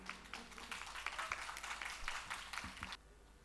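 Audience applause greeting a speaker at a Hindi college debate: a moderately faint burst of crowd clapping lasting about three seconds, then cutting off abruptly.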